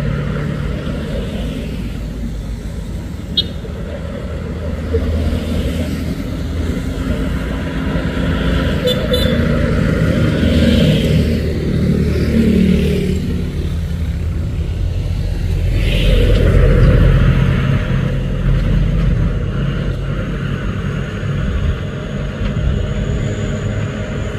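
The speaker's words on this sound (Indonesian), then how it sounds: "Sedangkan di bawah sana ada truk tangki" A Fuso tanker truck drives along a hill road, a steady low engine rumble and road noise with a brief horn toot, heard from a distance amid other passing traffic, with no talk.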